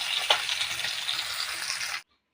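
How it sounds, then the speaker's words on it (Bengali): Bata fish frying in a pan makes a steady, fairly loud sizzle with a faint crackle, running evenly before cutting off abruptly into silence. "মাছগুলো খুব সুন্দর করে লাল করে আমি ভাজা করব"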